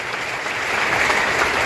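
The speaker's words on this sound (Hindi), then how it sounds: "जरा ताली बजाइए" Audience clapping at a political rally, a dense crowd applause building slightly and holding steady for a couple of seconds, close and loud, with no talk over it.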